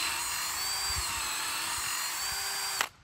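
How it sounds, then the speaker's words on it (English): A drill bores holes into a tree stump, its steady high whine running loud and continuous for nearly three seconds before cutting off abruptly. "I'm gonna drill just a few holes in here just to"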